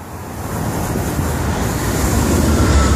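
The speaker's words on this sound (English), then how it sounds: "this is Amtrak P97 coming right under me on the 10th Avenue North Bridge" Amtrak P97 passes beneath a road bridge at 10th Avenue North, a loud continuous rumble and roar of the train that swells slightly over the few seconds, with no voices.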